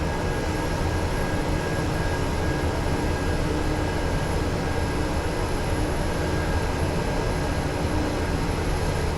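Steady, continuous drone of the twin turboprop engines of a DHC-6 Twin Otter in Microsoft Flight Simulator 2024, a dense unbroken roar with a faint high whine, holding level throughout with no talking.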